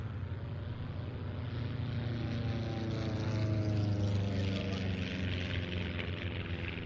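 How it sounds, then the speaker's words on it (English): A Cosmic Wind propeller aircraft making a pass at an evening air display at Duxford, a steady droning engine with a slowly shifting pitch that swells toward the middle and then holds, with faint talk underneath. "Cosmic Wind then coming round for its last pass."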